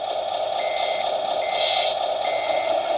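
A Tamiya Scania R730 RC truck loaded with water and fitted with Carson Crossforce tyres backs up, its reversing beeper sounding a steady repeating electronic tone over a constant whine, loud and close.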